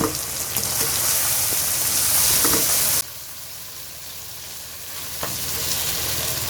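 Chicken pulao ingredients with garam masala sizzle loudly in a pot while being stirred, with scraping stirs over a bright hiss; the sizzle suddenly drops quieter halfway, then lingers as a softer fry with occasional stirs.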